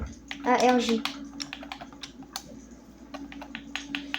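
Quick bursts of computer keyboard typing for a search in a survival game. The clicks are close and uneven, with a short vocal sound early on and a low hum underneath.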